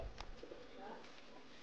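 Najra pigeons coo softly at a pigeon sale, a faint low cooing set against a steady, noisy background hiss.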